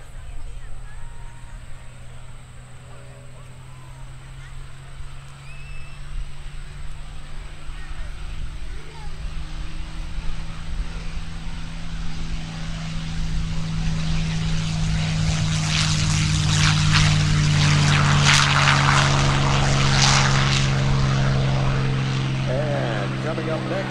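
A B-25 bomber's two air-cooled 14-cylinder radial engines rumble at an airshow, a deep droning throb that grows louder and nearer, then roars overhead with crackling exhaust; voices murmur faintly in the background.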